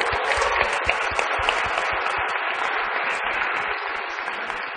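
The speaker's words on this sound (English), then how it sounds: "So I think a round of applause." Lecture-hall audience applauding at a university leadership psychology class, a dense steady wash of clapping that tapers slightly toward the end.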